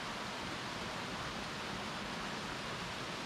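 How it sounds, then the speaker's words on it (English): Cascade Falls, a waterfall in Lolo National Forest, Montana, heard as a constant dense roar of falling water, steady and unbroken, with no voices over it. "I've made it to Cascade Falls. You probably can't see it, but I'm sure you can hear it."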